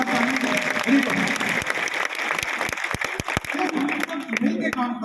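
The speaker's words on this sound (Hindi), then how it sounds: "एक जोरदार तालियां हमारे टीम के लिए, जोरदार तालियां" An audience gives loud, sustained applause for a team at a direct-selling meeting, dense clapping with a few sharp individual claps standing out near the end, while a voice speaks over it.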